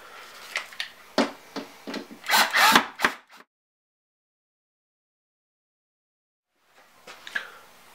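Small screws go back into a Technics 1200 turntable chassis in a series of close, crisp clicks, taps and scrapes over about three seconds. Near-silence follows, then a few faint taps return at the end.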